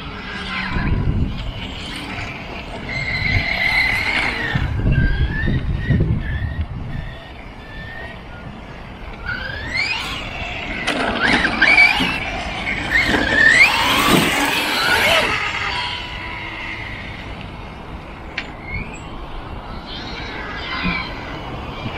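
Reely RC car running fast over gravel in a parking lot, with a high whining motor and squealing bursts that swell and fade over a gritty rumble as it drives past and away.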